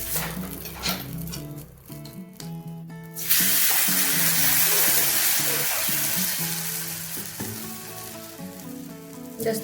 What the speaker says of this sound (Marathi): आता हे आपलं दिरडं भाजलेलं आहे